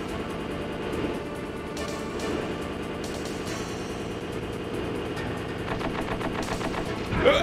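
Tank guns firing in Metal Gear Solid, bursts of gunfire mixed with rumbling engine and mechanical noise, steady and fairly loud with a sharper report near the end.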